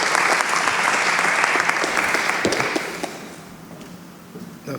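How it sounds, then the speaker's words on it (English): A room full of people applauds a speaker at a tech venture day event in Cape Town: dense, steady clapping that holds loud, then thins and fades toward the end. "Give a round of applause for Melvin."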